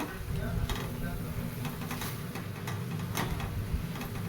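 Fenugreek leaves and moong dal sautéed in a pan give a soft, steady sizzle with intermittent spoon stirs and taps against the pan, faint and close.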